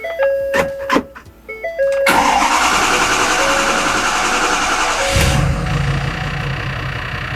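A 2011 Ford Powerstroke diesel truck engine cranks over with a few short bursts, catches and settles into a steady, loud idle that runs without a break, its rumble deepening toward the end.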